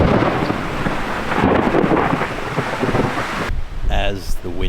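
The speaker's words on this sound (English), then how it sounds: "The rain poured down, and then thunder and lightning." Thunderstorm over a canyon in Africa, with heavy pouring rain and rolling thunder roaring loudly and continuously, wind buffeting the microphone, before the downpour drops off sharply and a voice speaks.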